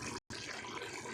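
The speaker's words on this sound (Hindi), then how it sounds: "मैं 1 कप इसमें पानी ऐड कर रही हूँ" Water from a cup is poured into a pan of cooking kala chana gravy, a steady close splashing rush with a brief break near the start.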